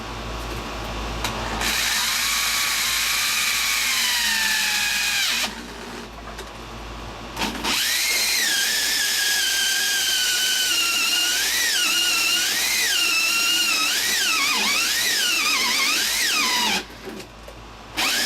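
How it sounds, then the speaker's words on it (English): A power drill whirs up close drilling a pilot hole, its pitch rising and falling as the speed changes, with a couple of short pauses between bursts. "we don't want the pilot bit to slip while we're drilling"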